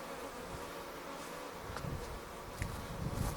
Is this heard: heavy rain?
no